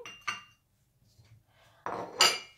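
White ceramic dishes handled on a surface, sharp clinks and knocks in two short clusters separated by a quiet gap, close and fairly loud, the last cluster busier with bright ringing taps.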